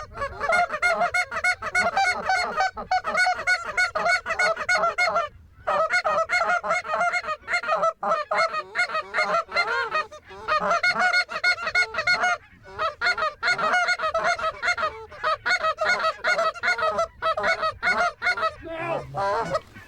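Geese calling out front during a hunt, a dense chorus of honks and squawks from a double bunch, near and continuous with only brief pauses, no talking.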